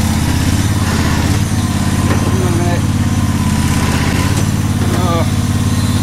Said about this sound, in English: No, right, the mower starts, the wheel's on.